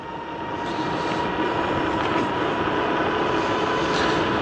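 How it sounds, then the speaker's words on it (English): A PVY Z20 Pro e-bike cruises on throttle alone with no pedaling. There is a loud, constant rushing hum of wind and motor drone with no breaks, close to the mic and with no voices. "See if I can cruise back with just using the throttle."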